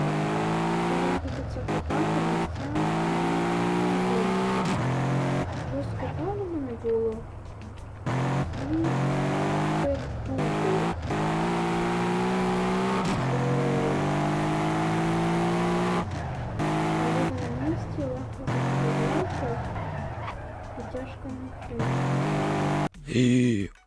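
A car engine in the video game GTA, played on a Ukrainian-themed server, revs and shifts almost continuously while driving, rising and falling in pitch with short breaks. A voice talks over parts of it.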